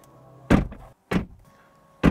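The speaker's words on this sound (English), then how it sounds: "And our door test." A 2022 BMW i4 electric car's door is shut three times, each a solid, close thunk separated by short pauses over a quiet background.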